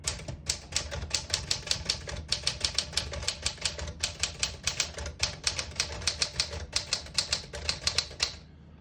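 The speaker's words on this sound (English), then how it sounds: "Beautiful typing machine." Fingers type quickly on a 1963 Smith-Corona Sterling portable typewriter, a dense run of crisp, closely spaced key strikes clacking in uneven rhythm before stopping, with no voices.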